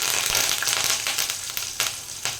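Curry leaves and crushed garlic sizzle in hot oil, with dried red chillies nearby for an Andhra-style palak pappu; a steady, close crackling hiss runs throughout, with brief sharper pops and spits and no talking.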